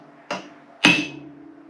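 A hammer strikes a blunt chisel or punch twice, two sharp metallic clanks about half a second apart, the second louder and ringing briefly, heard close with no talking.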